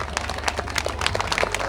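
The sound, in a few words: audience applause at temple dance event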